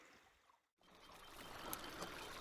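A small waterfall on a tiny trout creek splashes and trickles close by, briefly cut off, then a constant rushing flow with occasional louder spatters.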